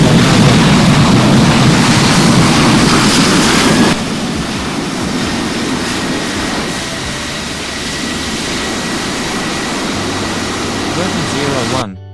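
A Swiss Airbus A330-300 airliner comes in to land with a loud, steady broadband jet roar filling the whole stretch, easing slightly after a few seconds and fading at the end.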